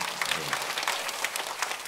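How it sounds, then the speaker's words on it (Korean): A church congregation at a Sunday morning service applauds in a short, even patter of clapping at moderate loudness, with voices mixed in. "우리 시원 찬양대도 한번 격려의 박수 해주시면 좋겠습니다."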